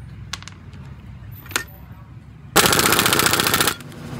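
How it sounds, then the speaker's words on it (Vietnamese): After some scattered clanks, a pneumatic impact wrench tightening nuts on a Honda Wave S110 motorcycle engine fires a loud, rapid rattling burst for about a second, close by, then stops. "sau đó mình dùng tiếp súng bắn, mình bắn 2 con tán nồi này lại"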